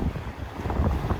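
Wind rushing and water sloshing around a sailboat under sail as it approaches an island on a Bermuda to Azores passage, a steady low roar with no voices.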